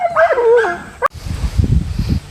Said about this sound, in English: Hope you guys enjoyed the dogs.